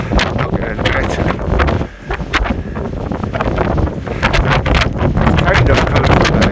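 Strong, gusting wind buffets the microphone on the summit of Maol Chean-dearg in Torridon, Scotland, a loud continuous roar with a brief lull near two seconds, then steady blustering to the end.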